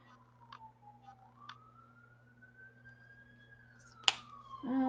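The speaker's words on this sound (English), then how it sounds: "It sounds like an ambulance." A distant ambulance siren wails in a single slow rising and falling tone, faint over quiet room noise with a few sharp clicks.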